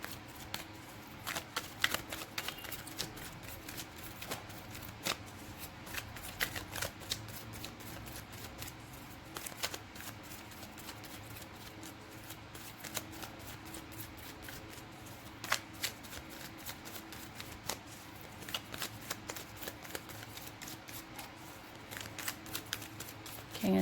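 Tarot cards being shuffled continuously, a close, steady riffle of crisp card-on-card slaps and flutters that runs without a break.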